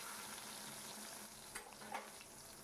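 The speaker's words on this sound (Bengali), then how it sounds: "এইভাবে আস্তে আস্তে আমি বেগুনগুলোকে সুন্দর করে ভেজে নেব।" Brinjal slices fry in hot oil for a Bengali-style dish, giving a steady, close sizzle with a few soft crackles and pops and no talking.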